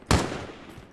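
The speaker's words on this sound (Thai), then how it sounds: "มีเสียงหลังเรายิงรัวมาเลยอ่ะ" Gunfire in Call of Duty, a single loud close burst that cracks sharply and fades into a short rumbling tail.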